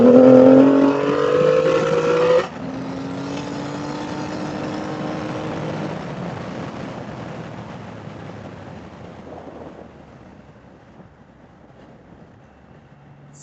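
A 2020 Triumph Rocket 3 with about 42,000 miles and an aftermarket tune accelerating hard in third gear, a loud rising engine roar that shifts abruptly, then fades into a receding drone.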